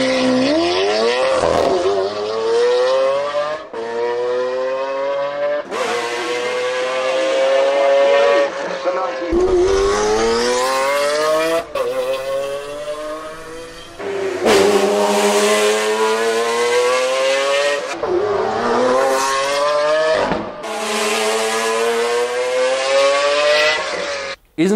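Lamborghini Aventador 6.5-liter V12 and McLaren F1 engines rev hard in alternating bursts, a high, rising howl cut by short gaps between pulls, loud and close with no talking.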